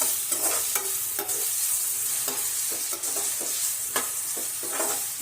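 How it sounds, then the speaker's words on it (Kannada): Onions frying in a pan for a cauliflower and pea sabzi, a steady sizzle broken by repeated clacking stirs of a spoon against the pan, close and without voices. "ಉಳ್ಳಾಗಡ್ಡಿ ಸ್ವಲ್ಪ ಕೆಂಪಾಗೋವರೆಗೂ ಫ್ರೈ ಮಾಡ್ಕೋಬೇಕು."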